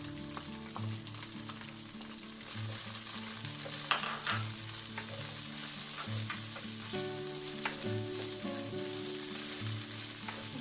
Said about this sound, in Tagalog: igisa lang natin siya na at least 2 minutes